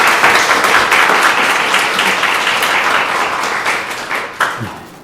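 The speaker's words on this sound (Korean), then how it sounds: "폴박 목사님께 다시 한번 감사의 박수를 보내겠습니다." A church congregation at a Sunday worship service applauds Pastor Paul Park after his sermon, with dense, loud, steady clapping that slowly fades toward the end.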